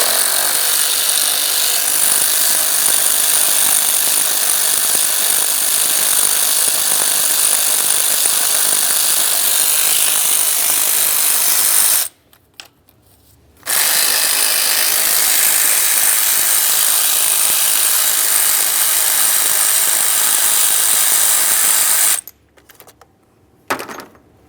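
A power tool runs steadily, loud and close, as it removes two 10mm bolts holding the EGR valve on a 2003-2011 Mercury Grand Marquis. It whirs in two long bursts with a short pause between them and no talk.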